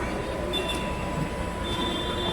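A metro train in Hyderabad rolls along with a constant broadband rumble and a faint high whine, steady and enveloping as from inside the carriage, with no clear voices.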